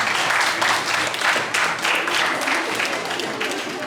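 An audience applauds for Uroš at a science talk, a full burst of many hands clapping together, loud and sustained before slowly tapering off.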